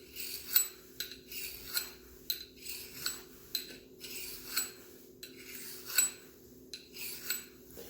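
A knife blade is drawn repeatedly across a sharpener, alternating sides, giving about a dozen close, rhythmic scraping rasps spaced roughly half a second apart, with no talking.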